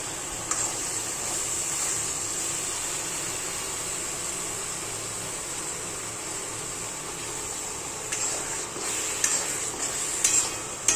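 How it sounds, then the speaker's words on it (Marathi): Ground masala paste frying in oil for a peanut amti, a constant hissing sizzle with occasional stirring scrapes, louder near the end, no voices. "आता हे वाटण पण आहे ना चांगलं याच्यामध्ये फ्राय करून घ्यायचं"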